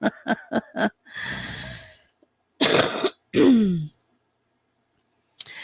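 A quick run of short coughs, then a long breathy exhale, two more harsh coughs, and a final sigh-like cough trailing off; no speech.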